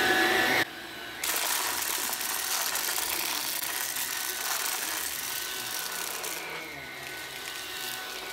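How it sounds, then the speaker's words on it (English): A VAX Blade 2 Max cordless vacuum cleaner runs on carpet at low power with its brush roller spinning, a steady loud whirring motor hum that starts after a brief pause and continues alone. "this will be on low power with brush roller first."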